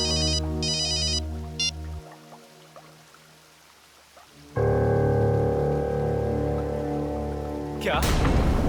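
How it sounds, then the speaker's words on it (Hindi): A telephone rings with a call from home in a Hindi TV drama. The ringtone gives short electronic bursts near the start, then stops, and loud dramatic music with low rumbling swells in. "अरे घर से रूपा का फोन है"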